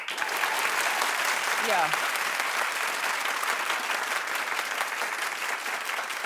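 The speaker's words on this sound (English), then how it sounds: "Clap if you think a collectible and a handwritten note is good." A studio audience at a talk show breaks into loud, sustained applause, a dense even wash of clapping with a brief voice calling out over it.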